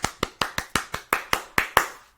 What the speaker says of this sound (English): So I want to applaud you right now.